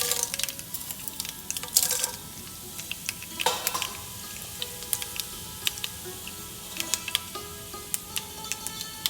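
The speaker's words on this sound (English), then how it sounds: "So oil is quite hot now. I'm going to add 2 teaspoons of mustard, 2 teaspoons of urad or chana dal" Mustard seeds and urad or chana dal crackling in hot oil, with a continuous sizzle broken by many small, sharp pops and spits that keep coming throughout, close by and with no talking.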